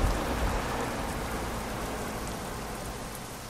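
Heavy rain falling in a desert in the video game Euro Truck Simulator 2, a dense, loud, steady hiss with no breaks and no voices.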